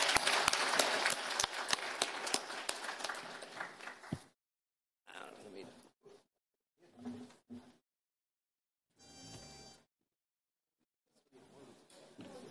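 An audience applauds a conference panel with dense, energetic clapping for about four seconds before it cuts off abruptly, followed by short separate bursts of other sound and a brief mechanical rattle.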